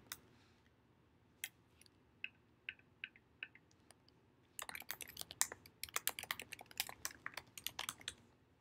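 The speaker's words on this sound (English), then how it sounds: "then you can type in all this information" Typing on a computer keyboard while entering account sign-up details: sparse, isolated keystrokes at first, then a dense burst of rapid clicking in the second half, close and fairly quiet with no talking.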